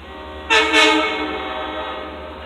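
Two Long Island Rail Road trains pass a level crossing in Mineola, with a loud horn blast starting midway, then continuing rail rumble and a sustained horn tone fading slowly, close by with no talk.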